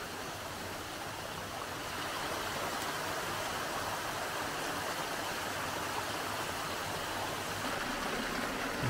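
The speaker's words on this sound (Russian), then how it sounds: "Тут такой маленький водопадик." Steady rushing water from a small forest waterfall in Baden-Württemberg, Germany, fills the whole stretch as a constant broadband hiss with no voices.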